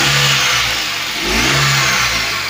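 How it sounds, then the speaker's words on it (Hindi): A replacement engine in a Tata Nano revs up close and loudly with its belt running, a steady mid-pitched drone that swells, dips briefly and climbs again, with no talk. "रेस हो रहा है।"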